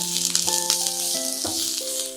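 Chili powder and spices with mince being stirred in a hot pan for chicken lasagna, a steady close sizzle and rattle over about two seconds, no one talking.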